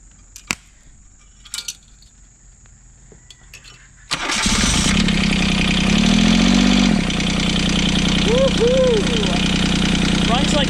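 A John Deere 2653A mower's three-cylinder Yanmar diesel cranks and catches after a few faint clicks, then runs loud and steady up close, with a brief rise in revs partway through and voices faintly over it.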